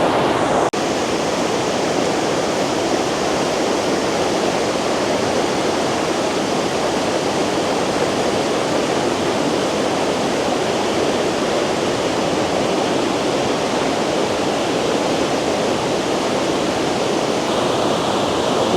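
Heavy water pours down a waterfall in a loud, unbroken roar of broadband rushing noise, close and steady throughout with no voices.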